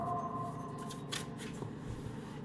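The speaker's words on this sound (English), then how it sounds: "I think less about the cards that are coming out and think less, oh, is this enough shuffling? Have I shuffled enough?" A deck of playing cards being shuffled, a steady papery riffle and flutter running the whole time at close range, with a brief louder burst partway through and no talking.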